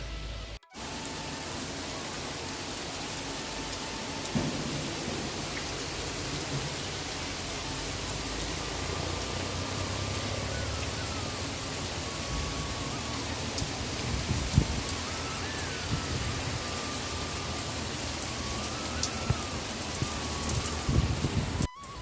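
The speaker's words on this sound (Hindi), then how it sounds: "बारिश बहुत तेज़ हो रही है गाइस, बहुत तेज़।" Heavy rain pouring steadily, a dense, unbroken hiss with occasional louder drops and splashes nearby.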